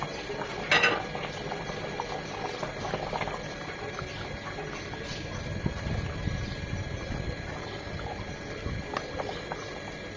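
Potatoes and beef boil in a pot for a khichuri meal, a continuous close bubbling and gurgling with a few faint clinks.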